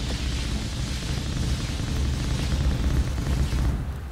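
Continuous rumbling blasts and booming explosions from space drone weapons in the Nimbatus video game, loud and dense throughout with no talk.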